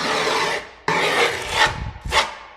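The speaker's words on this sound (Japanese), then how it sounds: "次はこのヤスリを使って" A file rasps along the edge of freshly applied skateboard grip tape, three or four close, loud scraping strokes in a row with short breaks between them.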